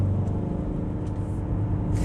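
A 2011 Mercedes C220 CDI W204 diesel accelerating hard, a loud dense low engine roar heard from inside, steady and continuous for the whole stretch.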